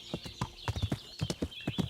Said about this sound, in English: riding your horse to the forest